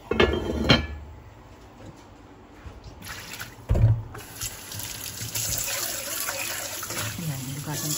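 Water runs into a kitchen sink while dishes are rinsed, a steady splashing flow with clinks of crockery and a louder rush partway through; a person talks over it.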